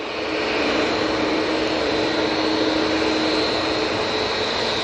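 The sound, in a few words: EasyJet Airbus A320-200 airplane at Manchester Airport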